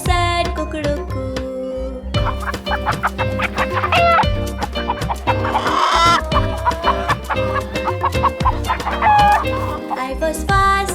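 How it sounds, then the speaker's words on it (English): A hen clucks, with rooster-like calls, over a bright, loud children's song with bouncy instruments. "The hen came and woke me up, said cuckoo-cuckoo."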